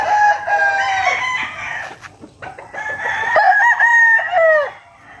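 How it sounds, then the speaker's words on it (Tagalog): Several roosters being readied for a cockfighting derby crow one after another, long loud calls close by, overlapping at times with a brief gap midway before a final strong crow. "Ito po yung mga manok na sasali sa exam."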